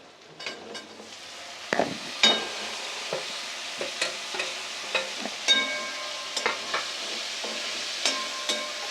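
Spiny gourds frying in a pan, a steady close sizzle broken by repeated scraping stirs at an irregular rhythm, with no talk.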